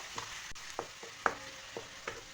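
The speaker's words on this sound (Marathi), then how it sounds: "आता कांदा परतून घ्यायचा छान" Finely chopped onion sautés in hot oil with mustard seeds and cumin, a soft steady sizzle broken by several sharp stirring scrapes of a spoon against the pan, close by with no talking.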